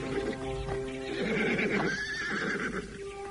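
A horse whinnies loudly in an audio drama, its neigh rising and falling over about two seconds, set in front of an old house where the animal is tied to a waru tree, with soft clip-clop hoofbeats and no talking.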